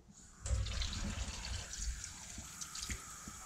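A cooked pork roast, a Debrecen-style roast, is lowered into cold water, making a sudden splash followed by steady sloshing, trickling and dripping close by.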